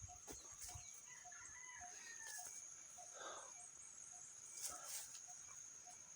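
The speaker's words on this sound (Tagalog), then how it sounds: "May tilaok ng manok." A rooster crows outdoors beside a small river near a large balete tree, somewhat distant and moderately faint, over a constant hiss of ambient noise.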